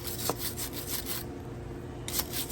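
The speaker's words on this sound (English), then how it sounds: "I'm gonna go ahead and wire brush as much of that off as I can" A wire brush scrubs carbon buildup off an aluminum Harley Knucklehead engine part in rapid, rhythmic rasping strokes, close and fairly loud, pausing briefly midway before resuming.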